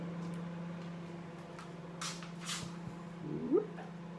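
A microwave oven heating food gives a steady low electrical hum throughout, with a few faint clicks and a brief higher whine near the end.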